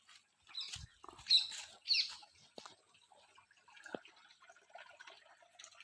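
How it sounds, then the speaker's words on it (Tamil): A thin stream of spring water along a temple path, trickling and dripping in sparse, irregular bursts that are quiet and close, with faint gaps between them. "தண்ணி கம்மியாக போகுது."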